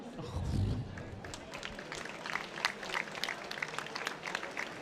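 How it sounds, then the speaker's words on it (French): A crowd applauds with dense, steady clapping sustained across the whole stretch, mixed with some crowd noise, at an event around the start of the 24 Heures de Saint-Jo race. "je pense qu'on peut encore applaudir Thierry"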